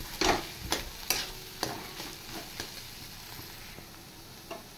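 Crushed boiled potato fries in a pan, a soft sizzle under a series of spatula scrapes and knocks that start sharp and fade to a light rhythmic stirring.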